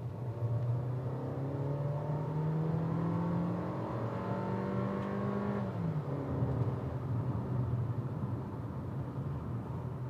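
A Changan CS75 SUV accelerates at full throttle, its engine drone climbing steadily in pitch, dropping briefly at a gear change near the middle, then pulling up again, heard from inside the cabin at moderate level.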